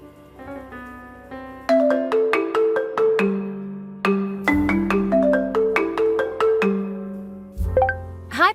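Melodic ringtone playing a bright, rhythmic sequence of plucked synth notes for several seconds, fairly loud and alone, with no talking.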